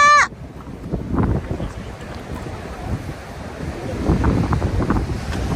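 Waves crash onto the shore in a steady rolling roar, swelling louder toward the end, with wind rumbling across the microphone and a brief whistle-like tone at the very start.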